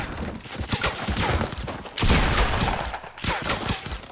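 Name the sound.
gunshots in a video game build battle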